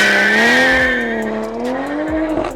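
A Toyota Supra A90 launching with launch control, its engine loud and close in a rising, wavering tone, with tire noise coming in and a few sharp chirps near the end.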